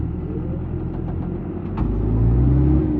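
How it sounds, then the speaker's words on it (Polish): A CLAAS ARES 567 tractor with a 115 hp John Deere engine runs with a steady mid-pitched rumble, swelling into a deeper, louder drone near the end, with no voices. "Bardzo zwinny traktor. Silnik elegancko."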